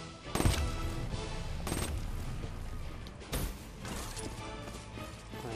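Gunfire in Black Ops 3 during a freerun course, with a few sharp, loud shots spaced out over a busy game background with mechanical clatter.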